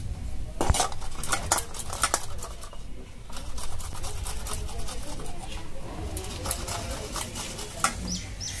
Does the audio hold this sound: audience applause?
no